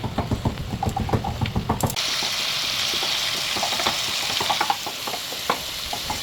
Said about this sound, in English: so continue frying your potatoes.